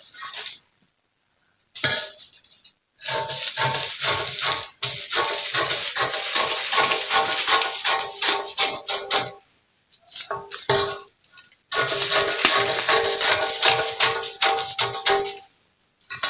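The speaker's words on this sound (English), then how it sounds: "Then I'm going to cut it out." Sheet metal being cut out for a 90-degree flare pattern, with long stretches of close, loud, rapid metallic snipping and clanking broken by brief pauses.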